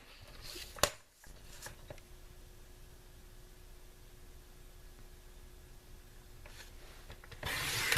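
Paper for a mini gable box is cut with a soft, steady rubbing rasp that runs for several seconds between a sharp tap at the start and a louder scrape at the end.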